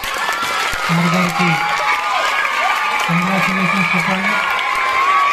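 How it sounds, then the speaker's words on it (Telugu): Schoolchildren clap and cheer for their award-winning teacher at a Teachers' Day celebration at a school, a steady wash of crowd applause and shouts with a voice speaking over it. "పిల్లలు మీరందరూ కూడా క్లాప్ కొట్టి"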